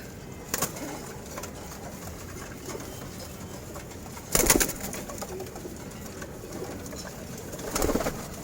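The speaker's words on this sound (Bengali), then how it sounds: "এগুলি সব নরকবুতর" Male pigeons coo softly in the background in a loft, with a few sudden fluttering bursts like wingbeats.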